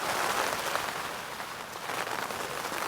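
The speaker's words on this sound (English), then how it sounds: "it's hammering it down with rain" Heavy rain pounds steadily on a tent during wild camping, a dense, continuous hiss of drops hammering down close by with no letup.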